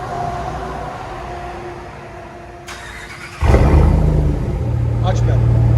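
Dodge Ram 1500 with a 5.7L HEMI V8 and an aftermarket exhaust, a quiet idle then a sudden loud deep roar as the engine is revved and held, close and dominant.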